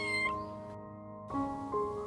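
A small cat, a kitten answering when called by name, gives a couple of clear, high meows: one near the start and a longer, rising one later, with a faint tonal background in between.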